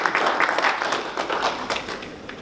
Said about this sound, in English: Are you not going to clap hands for us?